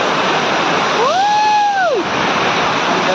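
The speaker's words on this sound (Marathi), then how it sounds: "धबधबा आहे ना एकदम वरून येते वाहत" A village waterfall at Korlai pours in a steady, loud broadband roar throughout, with a brief whistle-like tone rising and falling above the rushing water midway.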